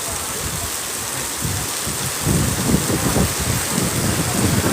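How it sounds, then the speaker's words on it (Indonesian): Heavy rain pours down during a dark storm at a park in Serpong, a steady dense hiss that swells louder partway through, with gusty rumbling underneath. "Hujannya deras banget teman-teman, hujannya deras banget, ini kayak badai di sini teman-teman"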